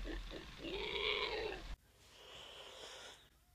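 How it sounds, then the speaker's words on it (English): A pig grunts loudly up close in one long nasal snort, followed by a quieter, breathier grunt. "There's a pig."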